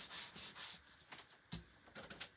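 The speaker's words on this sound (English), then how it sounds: "after we sand this down" Close sanding of a freshly painted surface, with several rough back-and-forth rubbing strokes, quiet and fairly steady, ending in a few shorter passes.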